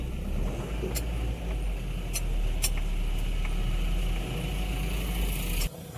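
A loaded Mahindra Bolero pickup's engine idles while parked, a low, steady hum that continues evenly with a few faint clicks and taps over it.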